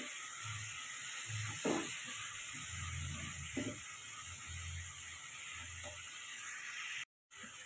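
Chicken curry masala frying after a splash of water, a soft continuous sizzle with a few low stirring thumps and scrapes, one brief dropout near the end, no talking.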